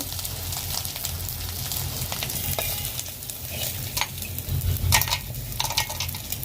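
Fish fries until crispy in hot oil, crackling and sizzling up close while a utensil stirs and scrapes now and then.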